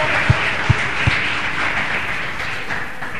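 A church congregation in a Portuguese-language service applauding the Lord, a dense, sustained wash of clapping with a few low thumps early on.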